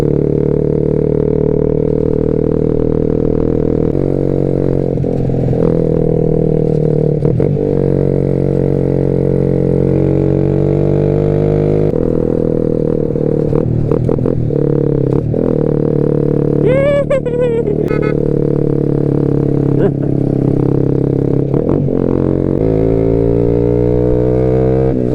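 Big-bike motorcycles climbing about six kilometers uphill on Route 955 in Mindanao, a loud, continuous engine drone with shifting pitch and a brief whine partway through.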